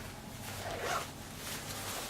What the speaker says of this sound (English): this zipper here is actually an arm vent, so I can open it up